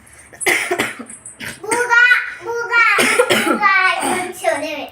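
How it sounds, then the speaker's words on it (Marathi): A child with a sore throat coughs in several short, close bursts, mixed with a voice speaking and a little laughter. "अशी घशात खोखो होती त्यामुळे असं थोडस खोकला यायला लागलाय"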